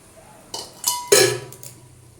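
Spiced tempering is poured over paste in a pot of rice khichdi and stirred, giving a few sharp metallic clanks and scrapes of a utensil against the pan, the loudest near the middle, with no talk.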